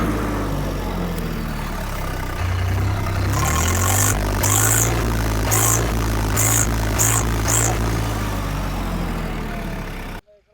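An Agrotrack 3610 diesel tractor engine idling steadily close by, a low chugging rumble throughout, with a few sharp metallic rattles partway through.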